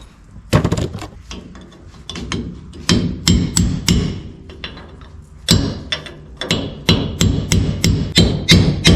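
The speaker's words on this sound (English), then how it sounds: "This is not a snap-on extension I'm hammering on either." Metal hammer blows striking a non-Snap-on socket extension while installing 3.08 rear gears and positraction in a differential, sharp ringing impacts in irregular runs and rapid clusters, loud and close.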